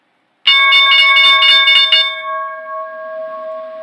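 A bell rings in rapid repeated strikes at the stock market close, then its bright metallic tone lingers and slowly decays, loud and clear.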